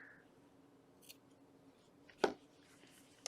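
A single sharp scissor snip trimming excess yarn from a crochet baby blanket, brief and close, with a faint click shortly after in an otherwise quiet room.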